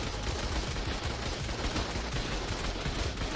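Heavy turrets in the game ARK firing in a relentless rapid stream of loud, dense machine-gun bursts, with no voices over them.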